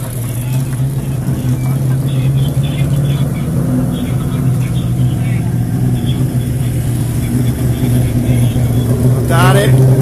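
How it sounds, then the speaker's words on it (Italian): Race cars from the Trento Bondone hill climb roll back down the wet road after a downpour, engines droning steadily nearby with a brief rev near the end, under continuous commentary. "Notare che arrivano giù belle bagnate le auto"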